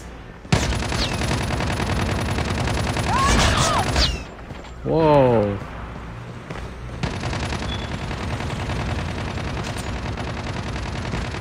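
Heavy, sustained automatic gunfire in Call of Duty Mobile: long dense volleys of rapid shots with a brief lull and mechanical clanks, then more continuous firing; a voice speaks briefly in the middle.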